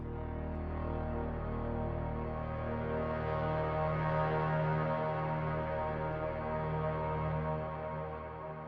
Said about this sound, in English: How cool is that? It's just a big swirly reverb.